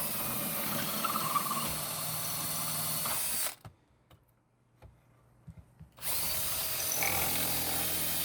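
A power drill with a masonry bit bores through stucco in loud, steady grinding bursts, broken by a quiet pause of about two and a half seconds with faint clicks before the drilling resumes.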